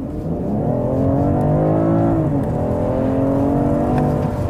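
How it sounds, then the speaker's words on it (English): A 2021 BMW 545e plug-in hybrid M Sport accelerates hard in sport mode, combustion engine and electric drive combined, giving a loud, steady engine drone whose tones climb through gear changes over several seconds, with no talking. "let me show you an acceleration sports mode. So both powers combined"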